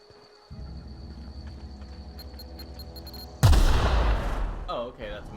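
A plasma rifle in the video game The Outer Worlds fires with a sudden loud, dense blast over a steady low game hum, followed by a sustained roaring burst that slowly tails off.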